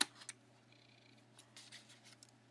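Scissors snip through paper for a folded paper craft, a few quiet, close, crisp cuts spaced irregularly over a faint steady hum.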